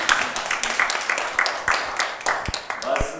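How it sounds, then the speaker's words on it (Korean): An audience at a Korean political party gathering in Gwangju claps for a lawmaker, loose uneven clapping with distinct sharp hand strikes over a murmur of voices and background talk. "한번 의원님께 큰 박수 부탁드립니다."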